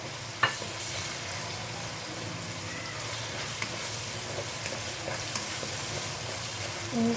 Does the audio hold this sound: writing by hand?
no